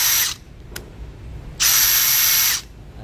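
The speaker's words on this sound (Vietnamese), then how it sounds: "Ở đây mình đang thực hiện là chức năng khoan." A Makita XT269M cordless drill runs in drill mode, with a short burst of high whirring, a brief click, then a longer one-second whirr, loud and close with quiet gaps between.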